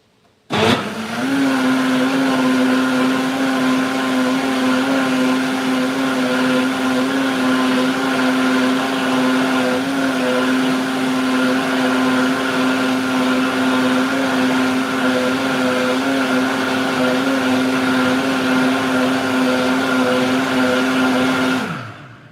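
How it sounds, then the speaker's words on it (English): An electric blender purees beans for Nigerian moi moi, running loud and steady with a constant high motor whine. It starts abruptly, holds unbroken for about twenty seconds, then cuts off, with no talking over it. "So the secret to a very nice momo is to have a good blender to blend it to be very smooth."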